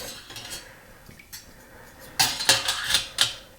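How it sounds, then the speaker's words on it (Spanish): A metal spoon and fork go into a pot for sterilizing before canning glass jars, giving a few bright clinks and clatters near the end after quieter handling. "puedo poner también alguna cuchara y tenedor por si acaso me hacen falta durante el envasado"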